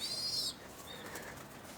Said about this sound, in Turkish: Yavru da şöyle bakın nasıl uçuyor kendi kendine.